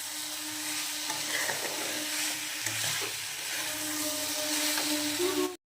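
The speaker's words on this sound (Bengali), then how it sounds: "আলু আর ফুলকপি যেটা আমি ভেজে রেখেছিলাম সেটা দিয়েও আমি ভালো করে একটু কষিয়ে নেব।" Potatoes and cauliflower, fried earlier, sauté with spices in a pan, giving a steady close sizzle with scraping stirs throughout, ending abruptly.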